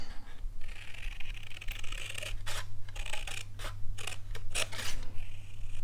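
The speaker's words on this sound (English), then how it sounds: "I'm actually going to use my larger scissors." Large scissors snip and slice through paper in a run of crisp cuts, some quick and some drawn out, over a steady low hum.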